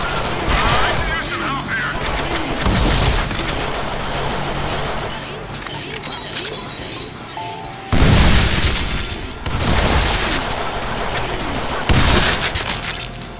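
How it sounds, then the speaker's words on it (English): Machine gun fire and explosive booms from the Deadpool video game, loud dense bursts of rapid shots with heavy impacts, surging again partway through, with some voices mixed into the chaos. "A machine gun!"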